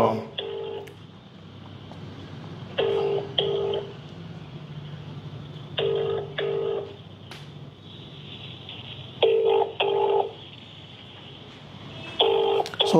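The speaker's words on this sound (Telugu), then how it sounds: "సో రింగ్ అవుతుంది, చూద్దాం మరి" A phone call ringing out on a handset during a computer shop's laptop giveaway, its repeating ring tones sounding in regular paired bursts over a faint background hum.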